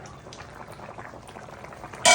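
Chicken curry simmers in a pot after extra water is added, giving a soft, steady bubbling and sizzle, with a sudden louder splash or clatter right at the end.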